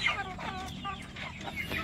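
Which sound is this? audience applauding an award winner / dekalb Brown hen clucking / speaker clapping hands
dekalb Brown hen clucking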